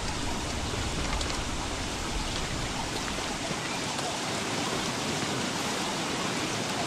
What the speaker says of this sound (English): And the rain's here to antagonize me.